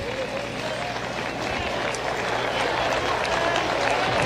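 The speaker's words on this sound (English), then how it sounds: "Crowd clapping for the strikeout." A college baseball crowd at a Nebraska versus Auburn game clapping after a strikeout, steady scattered applause from a distant stadium audience that swells slightly and holds.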